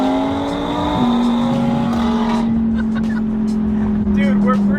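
An Audi R8 V10 Plus accelerating hard, with a loud, steady engine drone that climbs in pitch, heard from the cabin with a shift about a second in, as someone talks over it.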